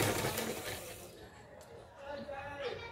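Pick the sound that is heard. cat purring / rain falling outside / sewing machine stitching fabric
sewing machine stitching fabric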